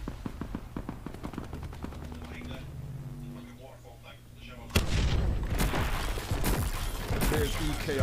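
Gunfire in Call of Duty Black Ops 4: bursts of rapid shots with booming impacts, loud and dense, over game music and voices.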